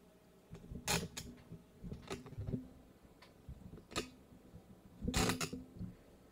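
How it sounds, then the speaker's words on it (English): A cheap microphone boom arm is cranked and moved around, giving faint, sparse creaks and small mechanical clicks in a quiet room, with a few sharper ticks among longer gaps. "now I'm gonna move my microphone. I'm really cranking this thing around."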